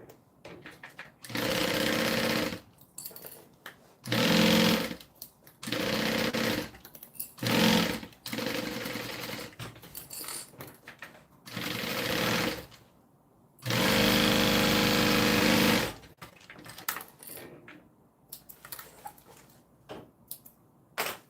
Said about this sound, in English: let's sew this together